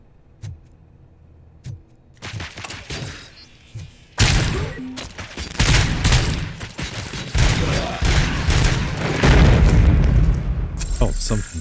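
A large explosion booms in the RoboCop: Rogue City video game, a sudden loud blast that sets off sustained crashing, crackling noise, with someone talking over parts of it.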